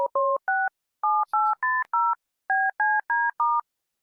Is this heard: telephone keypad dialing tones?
yes